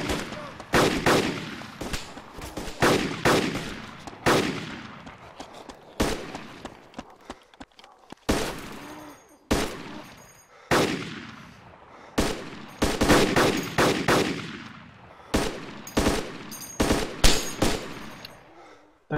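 Rapid bursts of gunfire in the DayZ video game, repeated volleys with sharp cracks and decaying echoes spread through the clip, loud and close, with no talk over them.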